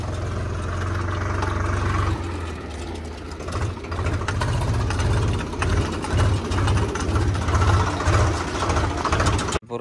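A Swaraj tractor's diesel engine runs close by with a steady, heavy, rapid knocking chug, briefly dipping and then settling into an even idle that continues for several seconds with no speech.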